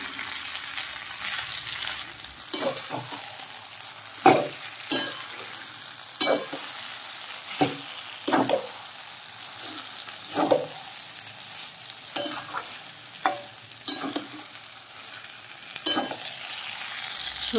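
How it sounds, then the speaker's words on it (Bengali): A spoon stirs banana flower curry (mochar ghonto) with ghee in a pan over low heat, producing a soft steady sizzle punctuated by a dozen or so sharp scraping strokes at irregular intervals, close and clear with no talking. "এবার ভালো করে নাড়িয়ে নামিয়ে নেব।"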